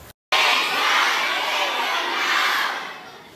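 A large crowd at a rally against child labor roars together in one sustained, loud shout lasting a few seconds before fading slightly.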